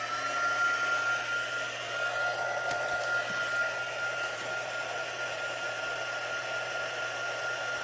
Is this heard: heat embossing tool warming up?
yes